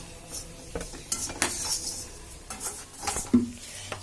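Grated coconut being roasted and stirred in an iron pan, with scattered metallic scrapes and clinks of a utensil against the pan over a faint background, no voices.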